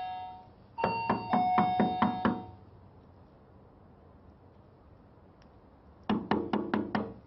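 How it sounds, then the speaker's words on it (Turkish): Knuckles rapping on a house door in two bursts of several sharp, close knocks, the first longer and ringing, then a quiet pause before a second quick series of knocks. "Bayağı çaldım kapıyı ama açan olmadı."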